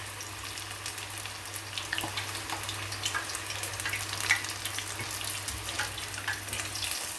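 Sliced aubergine frying in hot oil, a steady close sizzle and crackle with small pops running throughout, no talking.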